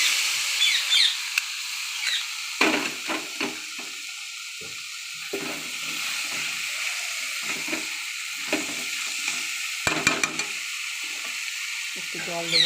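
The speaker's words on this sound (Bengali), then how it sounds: "মশলা কষা হয়ে গেছে, এবার আমি এঁচড়টা ঢেলে দেব।" Green jackfruit added to a pan of fried spices, giving a steady, close sizzle and hiss with intermittent scraping and clattering stirs, a few brief metallic clinks, and speech in the background.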